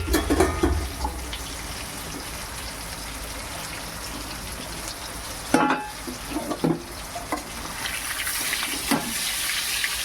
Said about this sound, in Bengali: এটাকে নুন হলুদ মাখিয়ে এটাকে আমার সর্ষে তেলের মধ্যে আমি এটা ভেজে নিচ্ছি